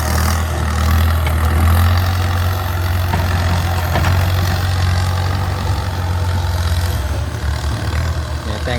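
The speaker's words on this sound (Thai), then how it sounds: "ดูฟังเสียงเทอร์โบยังหวาน" A Kubota M6240SU tractor with a modified exhaust idles steadily, its engine and turbo making a loud, close, continuous low rumble with a faint whine above it and no talk.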